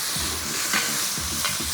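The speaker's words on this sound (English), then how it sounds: "I have saved some onions which I'm going to get it fried." Sliced onions fry in hot oil until crisp for a biryani topping, a loud close sizzle with scraping stirs of a spoon in the pan recurring every half second or so, no talking.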